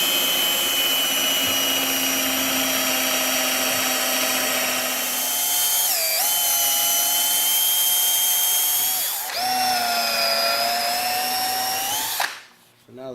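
A power drill bores holes for a motor mount on a Country Living grain mill, giving a loud, steady high whine with brief pitch dips around the middle, then cutting off near the end.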